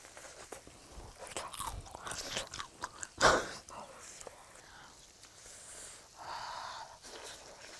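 Close, crisp crunching bites of crispy fried holiday food, with a loud crunch in the middle and soft murmuring between chews.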